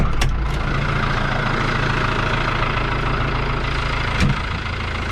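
A New Holland TD85 tractor idles in a field of heavy soil with its plough raised, a steady low rumbling engine drone that stays loud and even throughout, with a couple of brief knocks.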